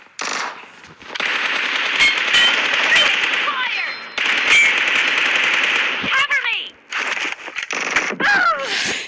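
A video game fills the scene with loud bursts of automatic gunfire and sharp shots, near and busy, while people talk excitedly over the shooting.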